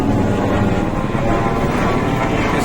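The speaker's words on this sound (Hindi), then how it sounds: "हेलीकॉप्टर ऊपर जाता हुआ" Helicopter climbing away near the Katra approach to the Vaishno Devi shrine, a steady loud rotor and engine drone holding throughout with no pauses.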